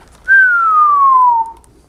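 A person whistles one clear, sustained note that glides slowly downward for about a second, loud and close, with no other sound around it.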